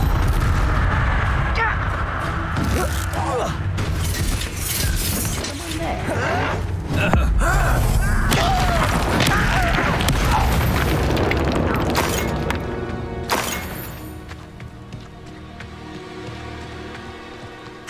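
The Incendio fire spell in Hogwarts Legacy erupts as loud, booming, crackling blasts over constant game noise and combat effects, with voices talking throughout.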